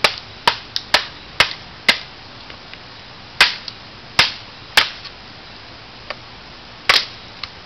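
Sharp, loud chopping impacts from an MTech 525 splitting a stump into firewood, a dozen or so uneven strikes spaced in bursts, some hard cracks and some softer knocks, with no talk.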